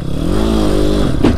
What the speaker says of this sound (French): Même la moto qui est en train de chasser du cul